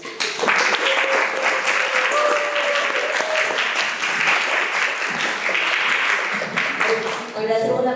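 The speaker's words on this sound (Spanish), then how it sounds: "Les damos un aplauso." Sustained applause from an audience at a national conference panel session on interculturality and inclusion, steady and dense for several seconds with a speaking voice layered on top, then thinning as the clapping winds down.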